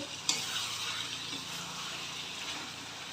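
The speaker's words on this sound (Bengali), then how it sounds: "তাকে ভালো করে নেড়ে চেড়ে হতে দেবো দেখুন মাংস থেকে তেল ছাড়ছে" Chicken for pulao stirred in a pan of hot oil, a steady close sizzle with soft scraping of the spoon and a small clack near the start, no talking.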